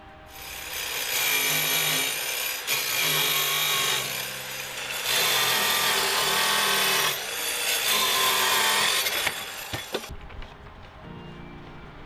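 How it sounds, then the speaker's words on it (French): An orbital saw cuts steadily through a water pipe in long rasping strokes with a grinding motor tone, then stops abruptly near the end. "la découpez aux dimensions souhaitées à l'aide d'une scie orbitale"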